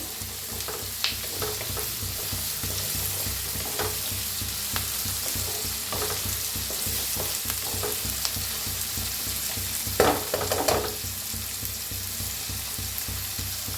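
Peanuts roast in a pan for a breakfast dish, giving a steady soft sizzle with occasional scraping stirs and a louder clatter near the end, close and without talk.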